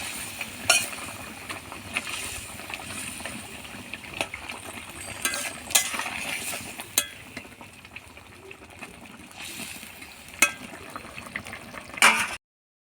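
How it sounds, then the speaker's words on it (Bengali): Katla fish pieces simmering in boiling kalia gravy: a soft, steady bubbling and low sizzle, with occasional clinks of a utensil against the pan, quiet and close, no one speaking. "মাছগুলো দিয়ে 2 মিনিট ফুটিয়ে নেব।"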